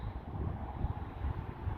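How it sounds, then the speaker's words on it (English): Wind blowing outdoors near an abandoned Kmart store and its parking lot, a steady low rumbling buffet on the microphone with gusty pulses throughout, no voices. "it's very windy, so hopefully you can hear me"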